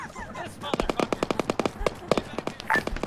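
Rapid automatic gunfire in Arma 3 crackles in quick, evenly spaced shots, a steady burst of about twenty reports that is fairly close and sharp, with brief voices around it.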